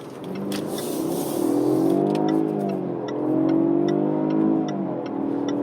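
A Jaguar XE P300S AWD accelerates hard from inside the cabin, its engine note rising in two long surges with a gear change between them, loud and steady with no talking.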